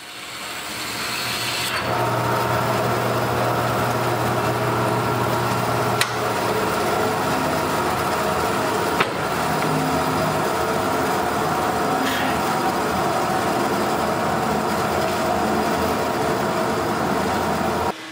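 A thick silver maple slab, about three inches deep and four feet long, is resawn into boards: a loud, steady power-saw cutting drone runs nearly unbroken throughout, with no talk.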